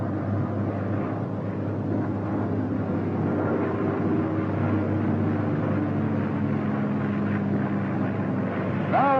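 Grumman F6F Hellcat fighter plane engine during takeoff, a loud, steady propeller-engine drone that holds throughout with a slight swell, no talk over it.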